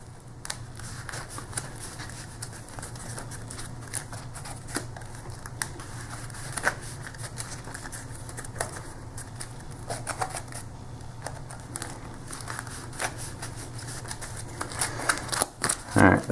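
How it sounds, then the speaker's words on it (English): Sleeved playing cards for an Iwo Jima board game are shuffled close up, giving soft, repeated riffling and slapping sounds at a quiet, steady pace, with a few sharper clicks near the end. "Alright, once again, shuffling sleeve cards."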